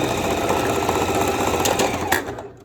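A sewing machine runs a straight stitch in one continuous, loud, rapid burst that stops near the end.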